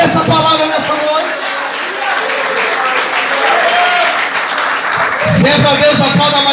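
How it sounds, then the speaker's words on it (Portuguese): A church congregation applauds together through an evening worship service, steady dense clapping filling the room with cheers and a preacher's voice mixed underneath. "Você consegue dar glória a Deus e aplaudir o Senhor por essa palavra nessa noite?"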